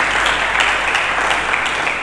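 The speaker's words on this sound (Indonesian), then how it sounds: "Berikan tepuk tangan dulu bagi" A church congregation claps steadily during a sermon, a dense continuous wash of applause from many hands, fairly loud and sustained throughout.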